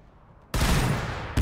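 Sudden burst of loud, dense gunfire in a Warhammer 40,000 battle game, Orks against Blood Angels, breaking in after quiet and rattling on as a sustained volley, with another sharp blast right at the end.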